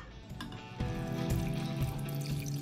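Water being poured from a measuring cup holding 400 millilitres into a cooking pot in a kitchen, a steady close splashing pour that grows fuller after a brief start, with no talking.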